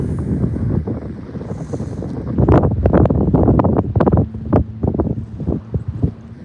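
Strong wind gusts buffet the microphone during an outdoor fishing session, a loud continuous roar with rumbling bursts and some clattering as baits are handled nearby.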